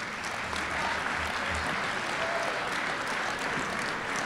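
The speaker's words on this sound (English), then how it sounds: "give them a round of applause" Dense, sustained applause fills a school hall during an all-school assembly honoring athletes, a steady wash of many hands clapping at once without a break.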